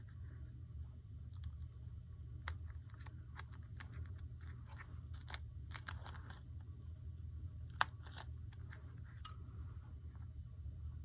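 Small plastic bridge sections being snipped away from a sand-and-sea shaker part, giving scattered sharp clicks and crunchy cuts at close range over a steady low hum, with no talk.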